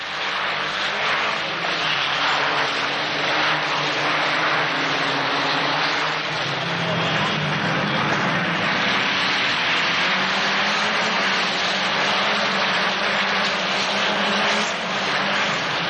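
A pack of Peugeot 505 Turbo race cars on a circuit, a continuous blended engine roar under heavy broadband noise, steady and fairly loud as the group passes by, with no talking.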